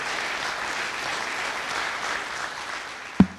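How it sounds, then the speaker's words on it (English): Audience applause for guest Tutu Agyare at a business executive breakfast meeting, steady and moderately loud, ending with a sharp knock or thump near the close. "A round of applause for our guest,"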